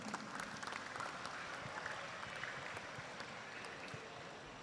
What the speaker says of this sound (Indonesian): Kita berikan tepuk tangan untuk Kabupaten Musi Banyuasin.